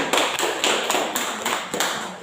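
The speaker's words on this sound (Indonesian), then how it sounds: "tepuk tangan untuk Abi" A classroom gives a student a short round of applause, a dense wash of clapping with a few sharper claps standing out, steady and close for about two seconds.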